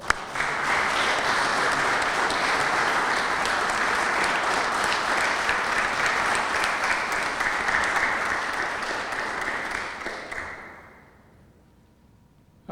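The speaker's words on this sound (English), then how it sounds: "We'll give them a round of applause." A room of people claps for a dinner committee at a Waterbury veterans Mayor for the Day event, dense sustained applause for about ten seconds, loud and even, then tapering off into near silence.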